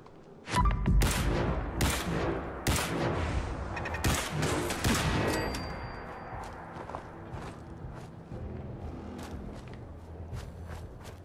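Rapid bursts of energy-weapon fire from the Righteous Authority laser rifle in Fallout 4, a quick volley of sharp zaps in the first half that thins into scattered clicks and rattles.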